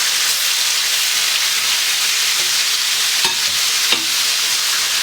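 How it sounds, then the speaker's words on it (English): Paprika chicken pan frying, a loud, dense and constant sizzle of hot oil close up, with two brief knocks partway through. "we're gonna cook them up just like the first set"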